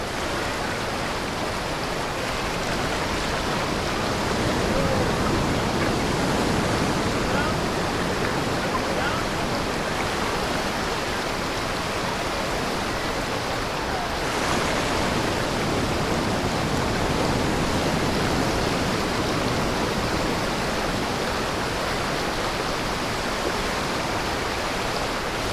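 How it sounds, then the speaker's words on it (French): Ocean waves crash on a Spanish beach, making a loud, continuous roar of surf and rushing water that swells slightly midway and never drops away. "persuadée que les vagues ne l'atteindraient pas."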